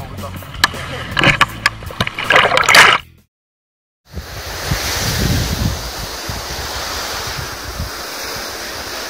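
Wind buffets the microphone on a Baltic sea dune in Lithuania, with heavy gusts and handling noise at first. After a brief dropout, steady waves and surf roar on as a continuous wash.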